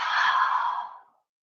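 A single long exhale during a yoga halfway lift and forward fold, a close, breathy sigh lasting about a second before trailing into silence.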